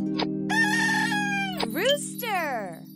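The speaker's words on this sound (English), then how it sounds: "Rooster." A rooster crows loudly and close up, a clear drawn-out cock-a-doodle-doo with a couple of shorter squawking calls around it.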